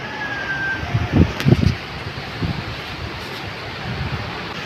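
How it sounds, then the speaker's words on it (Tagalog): Gusty wind roars steadily against the microphone, with a few louder low buffeting bursts and no voices. "napaakyat agad ako sa labas dahil kakaiba yung tunog ng hangin"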